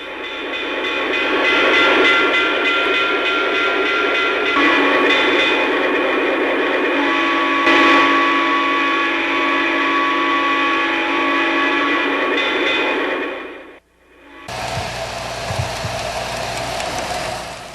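A model train on a large display runs with a continuous rumble of wheels and motor, with horn and whistle tones sounding over it. The sound drops out briefly, then resumes as a different, thinner run.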